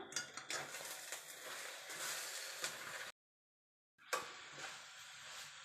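An onion and egg curry is stirred in a pan, giving a low sizzle with scraping and clinking of a utensil against metal, cut by a second of silence before stirring resumes.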